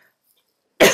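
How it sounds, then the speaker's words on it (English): A single sharp cough bursts out near the end after near silence, close and loud. "and there I cough"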